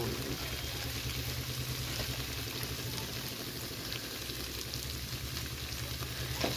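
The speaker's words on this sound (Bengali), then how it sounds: "লবণ দিয়ে ভালো করে নেড়ে চেড়ে নেব নিয়ে এটা একটু খানিক্ষণ ভাজবো" Chhena (fresh cottage cheese) with salt frying in a pan, a steady close sizzle with soft scraping from stirring running throughout, no talk over it.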